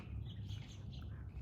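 Pet birds chirp and tweet in quick, scattered calls over a steady low rumble of room noise, close but not loud.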